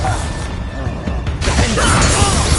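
A Bombarda blasting spell in Hogwarts Legacy erupts with a loud shattering crash and whooshing burst, a dense, close impact that fills the short clip.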